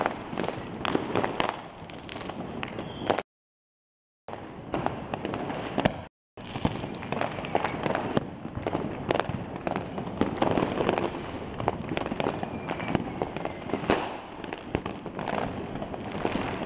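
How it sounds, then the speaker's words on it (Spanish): New Year fireworks over Buenos Aires crackle and pop in a dense, continuous barrage, with rapid sharp bursts near and far. Two brief gaps of silence break the noise. "van 10 minutos 40 de fuegos artificiales interrumpidos."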